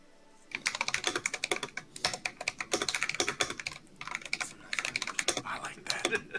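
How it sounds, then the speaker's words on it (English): Typing on a mechanical keyboard with inexpensive switches during an online typing test: a steady rapid stream of close, clacky keystrokes with brief pauses, no talking. "I'll get you some keycap ASMR here, chat."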